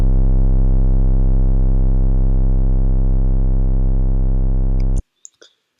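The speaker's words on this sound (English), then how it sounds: "how you can make an 808 that sounds like this" A deep, sustained 808 bass tone booms steadily for about five seconds, then cuts off abruptly, followed by a couple of faint clicks.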